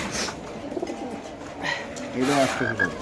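Pigeons coo softly in short throaty bursts at a pigeon farm, with a few flutters and chirps, while someone talks over them.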